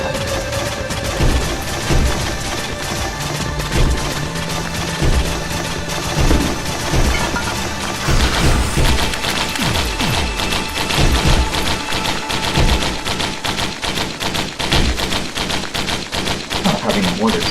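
Machine gun fire in the video game Risk of Rain, dense rapid bursts of loud shots with booming hits mixed in, continuing throughout without speech.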